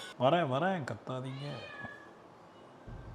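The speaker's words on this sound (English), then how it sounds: "So we give some meat to the cat." A cat meows loudly several times in quick succession as it is given meat, and then a person starts talking.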